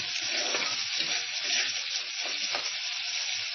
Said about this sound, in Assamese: তেল গৰম হৈছে, এতিয়া ইয়াতে পিঁয়াজ দিছোঁ।